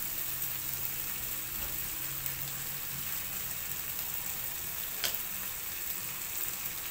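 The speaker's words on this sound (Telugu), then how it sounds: "అల్లం వెల్లుల్లి, ఒకసారి మిక్స్ చేసేసి హైలోనే ఉంచి ఒక 30 సెకండ్స్ ఫ్రై చేద్దాము" Ginger garlic paste fries on high heat in a pan for a lentil fritter tamarind curry, with a steady close sizzle and faint crackles.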